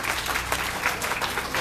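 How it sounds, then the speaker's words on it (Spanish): Brief, steady burst of audience applause for the coaches at a football talk, close and fairly loud with no speech over it. "Un aplauso para los técnicos"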